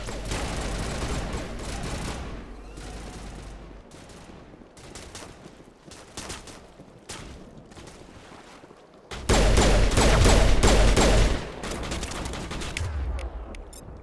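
Video game gunfire crossfire in Mass Effect Legendary Edition: rapid, dense bursts of shots throughout, growing into a louder sustained volley near the end, with occasional talk mixed in.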